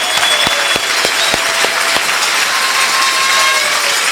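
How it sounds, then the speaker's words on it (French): A church congregation at a Sunday service applauds with loud, dense, continuous clapping. A few sharper individual claps stand out early, and the room stays full of sound throughout. "Applaudissons le Seigneur."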